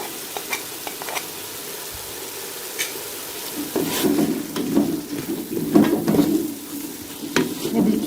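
Macaroni and vegetables with salt, red chilli, black pepper and chaat masala are stirred in a frying pan, giving a soft, steady sizzle under repeated scraping and clinking of the spoon against the pan.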